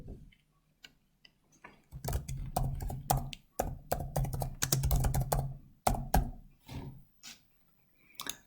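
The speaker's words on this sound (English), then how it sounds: "Type in the assignment title." Rapid clicking keystrokes on a computer keyboard come in irregular bursts and short runs, close and fairly quiet, with brief pauses between words and no voices.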